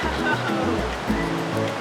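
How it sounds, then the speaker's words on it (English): Waterfall in the Kaçkar Mountains rushing as a steady, loud broadband roar, with a low rumbling undertone throughout and no break in the flow. "we're still only seeing part of the waterfall right now"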